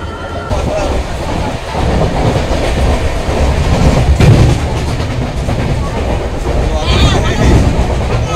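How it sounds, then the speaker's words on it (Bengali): The Dhauli Express pulling out of Santragachi station, a loud rumbling train with clanking carriages and heavy thuds, mixed with platform crowd noise and voices. "9:38 সাঁতরাগাছি স্টেশনে ট্রেন পৌঁছেছে, এবার ট্রেন ছেড়ে যাচ্ছে, দেখে নাও।"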